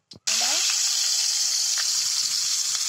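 Potatoes fry in hot oil over a low flame, giving a steady close sizzle right after a brief opening knock, with a few faint clicks underneath.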